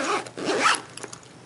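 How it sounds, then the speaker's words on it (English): Dual zipper on the front pocket of a Sporty's flight gear bag being pulled open, a close, continuous rasping zip lasting about a second, followed by a few fainter clicks of the pulls. "we've got a front zipper over here. Again, dual zipper."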